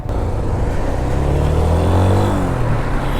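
A Yamaha FZ25 motorcycle pulls away at the start of a ride, its engine note climbing and rising in pitch as it accelerates, loud and close, with wind rush and no talking.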